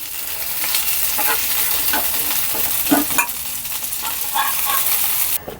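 Red potatoes fry in the same oil used earlier for fish, giving a continuous close sizzle broken by scraping and clattering stirs of a spatula against the pan.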